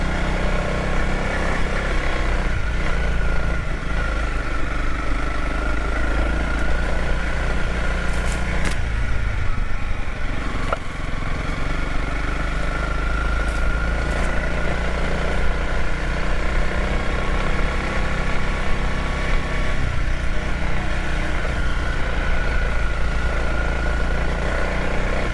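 A Honda CRF300LS motorcycle ridden over a rocky trail gives a steady, loud engine drone with continuous rumble and wind roar, holding even throughout with brief rattles of the bike bouncing over rocks.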